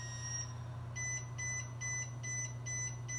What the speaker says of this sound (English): it's beeping off the number of months left